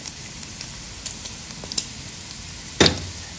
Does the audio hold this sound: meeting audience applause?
no